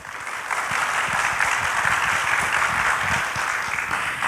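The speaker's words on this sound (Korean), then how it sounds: "우리 이명현 박사님께 다시 한번 큰 박수 부탁드리겠습니다" An audience at a televised astronomy and aerospace conference show applauds after a lecture, a dense, even wash of clapping that swells quickly and holds steady throughout.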